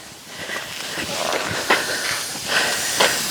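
Steady broadband hiss of an air compressor in a truck shop, continuous and fairly loud with a few brief surges, no talking over it.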